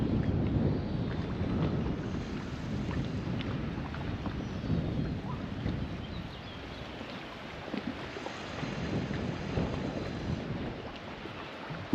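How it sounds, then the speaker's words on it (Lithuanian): Wind buffets the microphone in a steady low rumble while fishing from a boat on the water, continuous and moderately loud with no voices. "vėjas tas žiauriai nervuoja"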